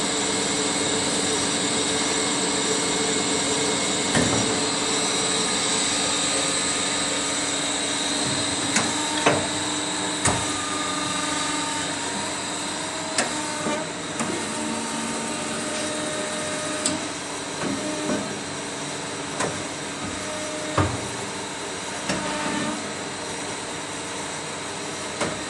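Parkanson automatic bandsaw running in a workshop, a steady mechanical hum and whine carrying on throughout, broken by sharp clicks and brief clunks at irregular moments, fairly close and moderately loud.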